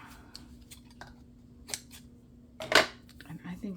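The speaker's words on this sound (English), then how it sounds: "Scissors, please." A few quick snips of craft scissors trimming shimmery navy thread or ribbon for a handmade Christmas ornament, one sharper cut standing out, with quiet talk and a faint steady hum behind.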